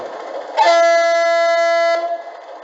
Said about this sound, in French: Vous allez voir le klaxon